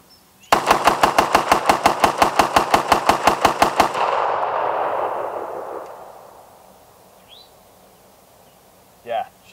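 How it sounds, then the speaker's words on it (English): A rifle fires 30 rounds of Wolf ammunition at a range in one rapid, evenly spaced burst of loud, sharp reports, followed by a long fading echo and a brief faint sound at the end. "I'm going to go ahead and run 30 rounds of Wolf through it"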